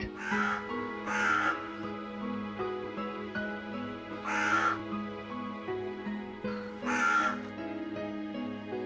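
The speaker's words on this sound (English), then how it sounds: "a family of carrion crows in a field" Harsh carrion crow caws ring out in short clustered bursts, a family of crows in a winter field calling repeatedly over a steady low background hum.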